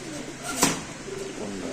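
A pigeon at a pigeon sale coos softly in a low, burbling rhythm, with a brief sharp noise midway through and faint voices in the background.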